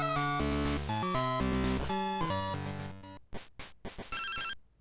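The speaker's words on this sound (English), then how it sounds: "we get a phone call from Professor Elm" A ringing phone call jingle from the Pokémon Crystal video game plays as a rapid series of bright chiptune tones, followed by several short repeated ring bursts, loud and alone with no talk.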